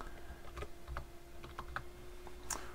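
Quiet, rapid keystrokes as a name is typed on a computer keyboard, a short irregular run of clicks over faint room hum.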